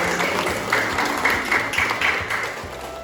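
Applause from an audience closing a university teaching session, a steady broadband patter lasting the whole stretch at moderate level with a few louder swells.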